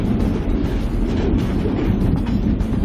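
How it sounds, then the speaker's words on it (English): Coal train locomotives descending a mountain grade with throttle off, giving a steady low rumbling drone of rolling wagons mixed with wind buffeting the microphone, continuous and fairly loud. "our lead locomotives have already begun their descent"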